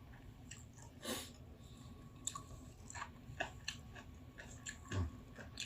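Close, quiet chewing and biting of stir-fried beef with kimchi and rice, soft wet squishes and occasional crunches at an irregular pace over a low background hum, no talking.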